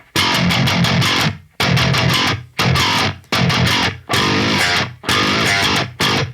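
A heavily compressed, distorted electric guitar plays a chugging riff in six repeated bursts, each cutting off sharply before the next, loud and up front.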